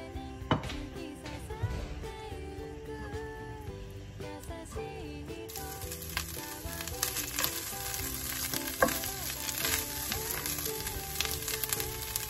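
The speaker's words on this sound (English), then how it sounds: "然後咧就可以炒下啲 Beyond Beef 啦。" Beyond Beef plant-based mince frying in a little oil in a pan, with a steady crackling sizzle under scattered clinks and scrapes of a utensil, fairly close and continuous throughout.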